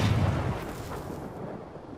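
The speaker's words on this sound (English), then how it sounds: "you shoot both cannons at the same time" Cannons on a vehicle in the Crossout video game fire together in one loud, close blast that rolls off into a fading rumble over about two seconds.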